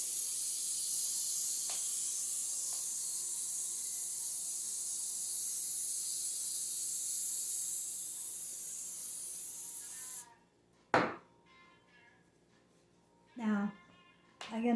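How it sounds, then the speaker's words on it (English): Cooking oil sprayed from a can into muffin tins for Yorkshire pudding, a steady close hiss running for about ten seconds before stopping, followed by a few short clatters. "you spray them with oil"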